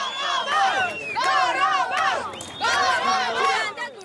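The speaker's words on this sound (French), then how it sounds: "c'est toute la population qui sort dans les rues et applaudit" Crowds pour into the streets of Fuzuli, Azerbaijan, cheering and applauding: many voices shout and whoop together in loud, overlapping bursts, rising and falling in waves across the scene.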